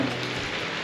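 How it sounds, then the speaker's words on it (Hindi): Rain begins falling outdoors in Rishikesh, a soft continuous hiss of drops on surfaces, fairly quiet and steady. "बारिश स्टार्ट"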